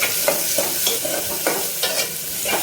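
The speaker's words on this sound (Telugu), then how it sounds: "ఇది వేసిన తర్వాత ఒకసారి ఈ విధంగా కలుపుకోవాలి" Onions and green chillies frying with cumin and mustard seeds are stirred in a pan, a steady sizzle broken by several scraping stirs at a regular pace, close and alone without voices.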